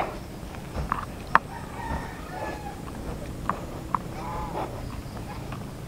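Chickens cluck and a rooster crows in the distance among turkeys, geese and ducks, short sharp calls scattered over a steady outdoor rumble.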